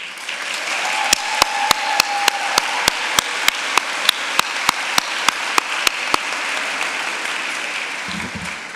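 Sustained audience applause at a medical school commencement ceremony, a dense wash of clapping with some sharper rhythmic claps cutting through, fading out near the end.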